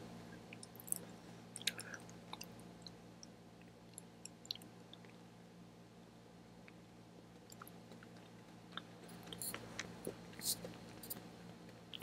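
Soft, close chewing of a cinnamon jelly bean, with sticky squishy mouth sounds coming in scattered bursts, heaviest near the start and again toward the end, over a quiet steady background.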